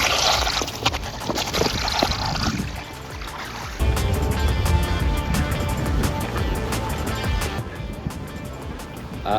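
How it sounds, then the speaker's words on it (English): New tires of a Funwheel X7 Long Range electric skateboard rolling over pavement at night, a continuous gritty road rumble with a brief dip in the middle, then rising again; no talking. "A new tire sound."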